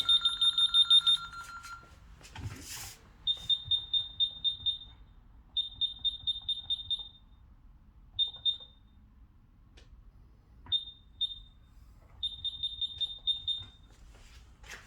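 An LE4000 alarm panel with a low battery emits loud, high-pitched electronic beeps in rapid bursts of several pulses, separated by short pauses in a quiet room, with faint handling noise between.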